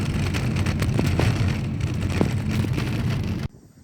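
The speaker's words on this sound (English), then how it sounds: "Идет мелкий дождь, но кофе очень хочется." Light rain patters steadily on a surface in Iceland, mixed with a soft wind rush, then cuts out abruptly near the end.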